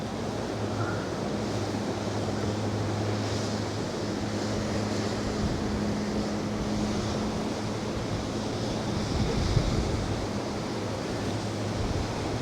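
Steady outdoor wind roars and buffets across the microphone while fishing with a jig, producing a constant broadband rush with a low hum underneath and no voices.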